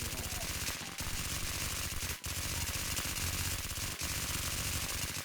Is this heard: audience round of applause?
no